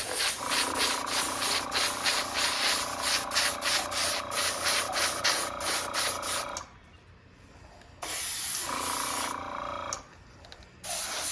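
An airbrush sprays clear coat onto a rim in light mist coats, a steady hissing spray with a rapid flutter that cuts off twice into quiet pauses before resuming, close and alone.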